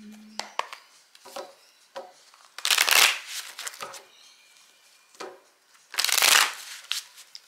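A tarot deck being shuffled by hand, with several light card taps and riffles followed by two longer, louder bursts of cards rushing together, close up with no talking.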